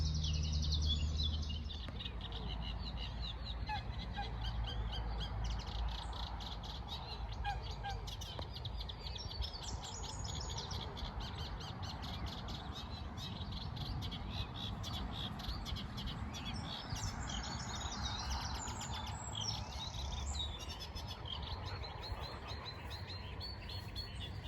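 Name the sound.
reed bunting and reed warbler singing in reeds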